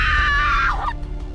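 A loud, sustained scream from a horror movie trailer slides downward and breaks off after about a second, leaving low rumbling behind it.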